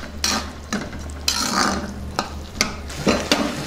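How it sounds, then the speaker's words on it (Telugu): Peas curry stirred in a pan after salting: a close frying sizzle under several distinct scraping stirs at irregular intervals, loud and without voices. "ఒకసారి బాగా కలుపుకుందాం."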